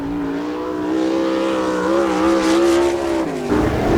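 A sprint car at full throttle on a qualifying lap at Attica's dirt oval, a loud, steady, buzzing engine howl with shifting pitch, rising and wavering briefly near the end.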